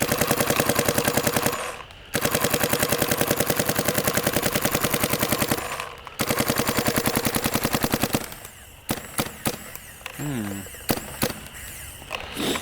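A Dye DSR Pro paintball marker fires rapid, steady volleys of loud, close shots in long bursts with short pauses, then scattered single shots and clatter as people talk outdoors.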